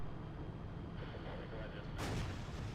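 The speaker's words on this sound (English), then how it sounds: "And I shoot right over his head." A tank gun fires once in World of Tanks with a sudden loud boom that rolls into a rumbling tail. Before it comes a steady noisy engine drone.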